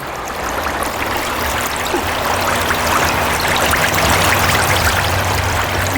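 Water runs steadily like a small stream or trickling flow, a continuous close wash of sound with a faint low hum beneath and no talk.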